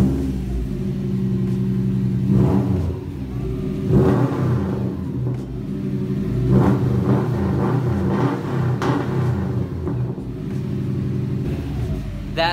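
A loud car engine with a straight-pipe exhaust idles roughly and revs repeatedly with a deep, raspy, unmuffled rumble, close by and continuous.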